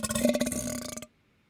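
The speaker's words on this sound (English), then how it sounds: "There's even a human burp kind of in there." Human burp from a sound effects library, a long rough guttural belch with pulsing texture lasting about a second, then cutting off abruptly into silence.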